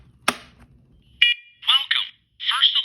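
A First Alert smoke and carbon monoxide alarm gives a sharp click and short beep, then its built-in synthesized voice speaks in bursts, close and loud in a quiet room.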